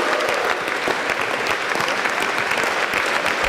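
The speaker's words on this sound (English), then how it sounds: "Even a round of applause for yourself there." A crowd at a news hackathon prize-giving in Shoreditch gives a dense, continuous round of applause. The clapping is close and loud, with a few scattered voices underneath.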